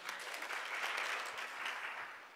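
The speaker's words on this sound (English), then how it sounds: "Applaud the speakers." A conference audience applauds speakers and panelists after a keynote, producing a soft, distant, continuous patter of clapping that tapers slightly at the end.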